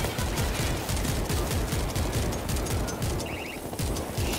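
Rapid, dense automatic fire from a machine gun turret in World War Z horde mode, a relentless loud rattling fusillade filling the whole stretch without pause.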